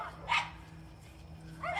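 Dogs barking at home near a garage, two sharp bark bursts at the start and end with a quiet gap between, fairly close.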